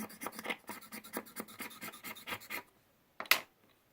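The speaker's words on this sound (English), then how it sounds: "we're just going to scrape a little bit off here" Chalk pastel sticks scraped by hand, shaving off bits of orange and brown pastel for a baked cookie drawing: a quick run of close, dry rasping strokes, then a pause and one short final scrape.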